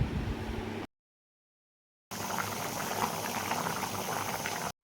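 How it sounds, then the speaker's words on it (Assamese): An eel fish curry boils hard in a pot of water, a steady close bubbling roar that drops out to silence for about a second before resuming. "এতিয়া দিম মই 2 বাটি পানী আৰু এতিয়া এইখিনি মই ভালদৰে উতলিব দিম"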